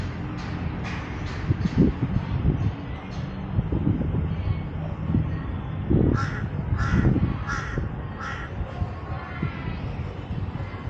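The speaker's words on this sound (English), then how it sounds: "The crow as well here." Several crows caw in a city park pond area in Bangkok, with repeated harsh calls in short groups against steady outdoor background noise and a faint low rumble.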